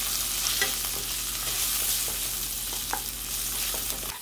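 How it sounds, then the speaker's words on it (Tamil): A steady sizzle of potato pieces frying in hot oil with chili powder, salt and turmeric, under brief scrapes of a spoon stirring the pan, with no voices. "இந்த உருளைக்கிழங்கை மட்டும் இதுல ஃப்ரை பண்ணி எடுத்துக்கலாம்"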